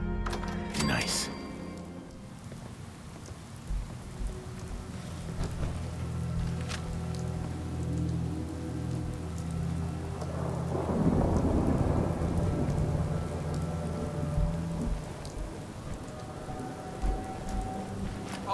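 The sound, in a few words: rain and thunder in video game Fallout 4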